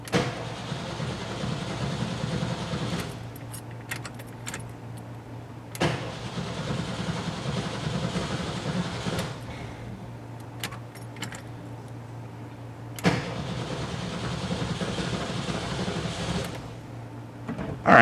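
A 1972 VW Bus engine cranks repeatedly while trying to start, with a steady starter whir broken by short pauses between attempts and a few faint jingles of keys, close and fairly loud.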